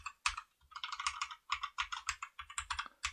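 Keys on a computer keyboard are pressed in quick irregular clusters of clicks separated by short pauses, close and crisp, with no talking.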